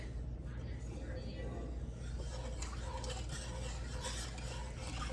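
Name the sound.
stirring crab soup with heavy cream in a pot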